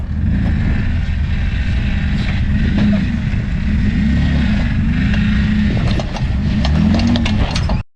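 A 2006 Jeep LJ on the Rubicon Trail rumbling loudly over rock, its low engine drone steady throughout, with scraping and grinding from the underside mixed in toward the end.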